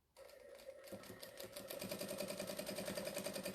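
A sewing machine does free motion quilting stitching around teddy shapes, starting up after a brief pause and then running in a fast, steady mechanical rhythm, close and continuous.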